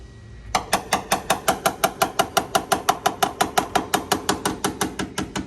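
Rapid, evenly spaced metallic taps on the passenger-side rocker panel of a 1981 Chevrolet C10 truck, about two dozen strikes in a steady rhythm, close and fairly loud with no talking.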